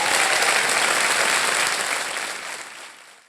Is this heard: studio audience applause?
yes